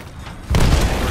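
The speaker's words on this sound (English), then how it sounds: "Grenade." Grenade explosion in Apex Legends, a sudden close boom that erupts halfway through and rumbles loudly to the end.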